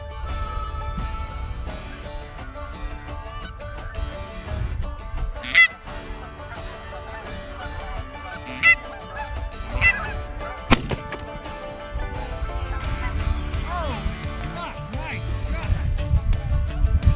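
Canada geese honk repeatedly at a distance during a goose hunt in eastern Montana. The calls come in scattered bursts over steady low outdoor rumble, with one sharp loud transient midway.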